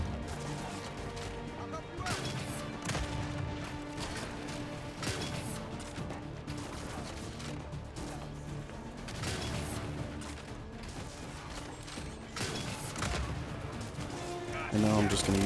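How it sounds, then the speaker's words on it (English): Boomshot grenade launcher in Gears 5 firing repeatedly, with heavy blasts and mechanical clanks over dense, continuous game noise and music and no break in the action. "we can unload the GL right through this spot. And we continue with the boom shot"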